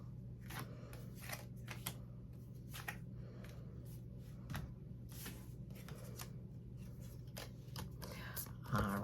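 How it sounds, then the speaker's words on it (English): Tarot cards are shuffled in soft, rapid riffling bursts, quiet and close, repeating in quick irregular flurries against a faint steady hum. "I'll shuffle the cards."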